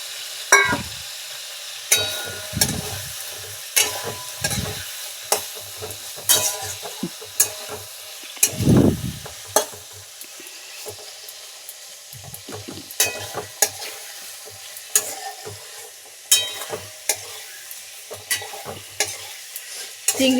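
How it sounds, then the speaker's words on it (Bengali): Eggplant pieces frying in oil while being lightly pressed, with a constant crackling sizzle and frequent scrapes and knocks of a spatula against the pan, close and fairly loud throughout. "হালকা চাপা দিয়ে ভেজে নিতে হবে।"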